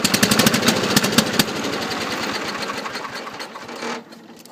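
Wheel Horse C-105 lawn tractor engine on a cold start attempt, cranking in rapid rhythmic knocks that catch briefly, run roughly for a few seconds, then die away into quiet.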